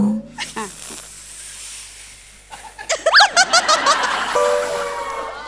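On a Marathi comedy stage show, a voice imitates a creaking door with a run of squeaky, rising and falling vocal sweeps, following a stretch of quieter talk and a light chuckle.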